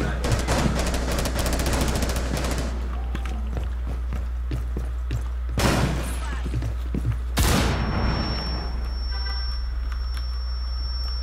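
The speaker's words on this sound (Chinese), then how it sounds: "有听到爆炸声" Rainbow Six Siege gameplay, with a rapid burst of gunfire and then two sharp explosions over a constant low rumble, fairly loud and close.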